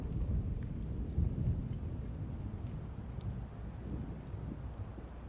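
A thunderstorm with steady rain rumbles low and continuously in the survival game Scum, with wind noise and distant thunder rolling under the downpour and no speech.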